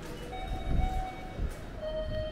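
A train in Japan rumbles and clatters at moderate distance, with faint tonal hums and squeals over a low rolling noise in a brief passage.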